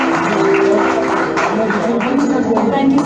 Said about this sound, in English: Can we have a big round of applause for this team?